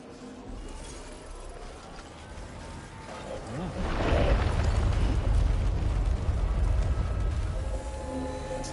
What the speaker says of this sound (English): Let's use up the grenade pistol.